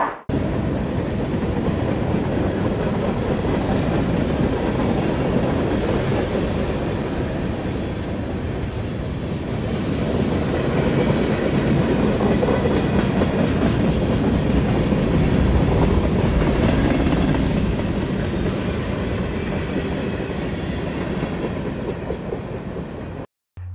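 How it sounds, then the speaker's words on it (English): A passenger train rolls past a station platform, a steady loud rumble of wheels and carriages with a faint clickety-clack rhythm that swells in the middle and fades near the end, with no one talking. "This train is going to Osaka!"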